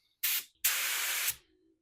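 A spray gun spraying Rustoleum multi-tone paint, with a short hissing burst followed by a longer steady blast, close and fairly loud, with no talking.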